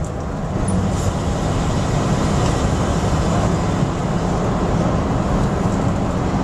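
A 1975 Ford Bronco with a manual clutch and manual drum brakes cruises down the road. A steady, loud engine and road rumble runs throughout with no pauses, and tire and wind noise sit on top.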